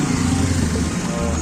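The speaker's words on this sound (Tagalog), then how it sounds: "Tinesting yung motor natin." A repaired motorcycle on a street test ride, engine running steadily and close by, a constant mid-pitched drone with a slight rise in revs partway through.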